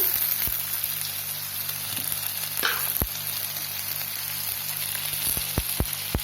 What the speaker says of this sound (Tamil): கட் பண்ணி இது நல்லா ஃப்ரை ஆகட்டும்